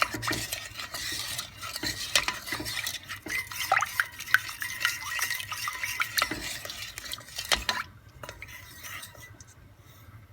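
A utensil stirs and scrapes through cream, sugar and gelatin in a pot for panna cotta, giving steady clinking and swishing strokes that fade near the end.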